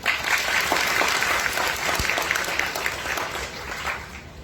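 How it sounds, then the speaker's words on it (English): A school audience breaks into applause during a valedictorian speech, a loud dense round of clapping that holds steady, then eases slightly near the end. "A big round of applause for all of them."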